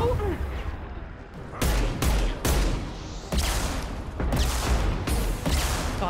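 Pistol shots from a hand cannon in the video game Mass Effect 2, several loud sharp reports spaced irregularly over continuous game background noise.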